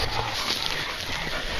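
Hunting dogs on a possum hunt in Christchurch, New Zealand, give a brief burst of excited whimpering and yelping amid heavy, noisy background rush, close to the microphone.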